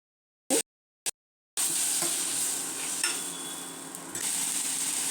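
Onion and tomato fry together in a pan, a couple of brief clicks first, then a steady, close crackling sizzle with occasional stirring scrapes.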